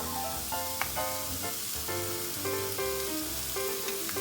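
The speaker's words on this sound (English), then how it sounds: "I'm going to sautéed these until they're nice and a golden brown color." Food sautéing in melted butter in a pan gives a steady, moderately loud sizzle throughout, with faint tonal sounds drifting over it.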